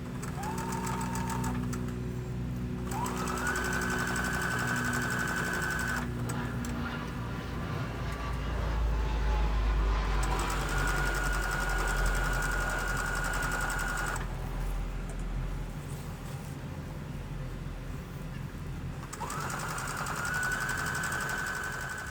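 A sewing machine stitching trouser seams, running in long steady whirring bursts with brief pauses and speed changes between them, close and continuous with a low mechanical hum and no speech.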